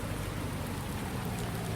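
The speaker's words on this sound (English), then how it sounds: "I want to be able to cultivate a field, but in this rain, I mean, it's raining." Steady rain falling in Farming Simulator 19 during a field-cultivating session, a dense even hiss with low rumble underneath, constant and close throughout with no talk.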